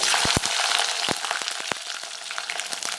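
Mustard seeds, fenugreek, red chillies and small shallots frying in hot oil for sambar, making a continuous crackle with repeated sharp pops and spatters.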